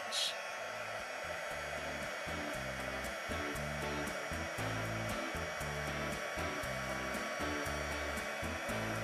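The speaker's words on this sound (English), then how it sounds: "So I have my heat tool here. I'm going to place it on high" A heat embossing tool runs on its high setting, giving a steady, close blower whir with a pulsing low hum for the whole stretch.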